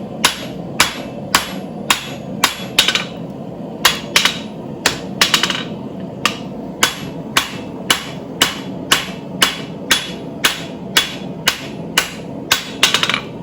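Steady hammer blows ring out on hot steel while blacksmith tongs are forged, roughly one or two sharp metallic strikes per second, close and loud, with short pauses between groups of hits and no talk.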